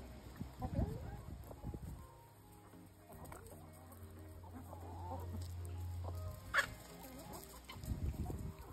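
Hens cluck softly and intermittently, low contented murmurs close by, with a steady low hum in the background and a brief higher squawk.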